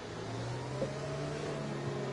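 Mercedes safety car in an F1 racing game at the Australian round, its engine droning steadily at mid pitch and accelerating away, fairly constant and close, with no talk.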